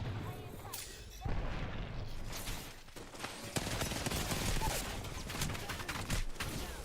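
Sustained gunfire in an Apex Legends firefight, dense overlapping bursts and booming impacts rolling continuously for several seconds, loud and close with no clear speech.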